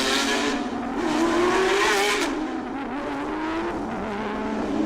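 Touring cars do burnouts on the starting grid at the Bangsaen Grand Prix street circuit, a loud, sustained blend of screeching tires and revving engines with a rising, wavering engine pitch.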